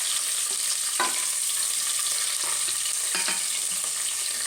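Chopped onion and capsicum fry in a hot tempering, giving a steady close sizzle with a few soft clicks of a spoon stirring the pan.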